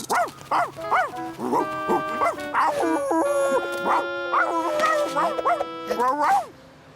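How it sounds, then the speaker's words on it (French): A cartoon dog barks and yips repeatedly in short, high, whiny bursts, close up, while a person talks over it at the same time. "Aboie tant que tu veux"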